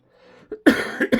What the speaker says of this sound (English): Excuse me, still got a bit of a cough.